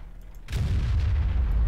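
A single FV215b tank gun shot in World of Tanks, a heavy deep boom that rolls into a sustained low rumble.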